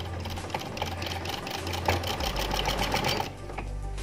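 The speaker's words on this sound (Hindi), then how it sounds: "ये इस तरह से सिलाई लगाऊँगी" A sewing machine stitching fabric for a fancy sleeve runs steadily and close, its rapid mechanical whir constant for a few seconds with no pause.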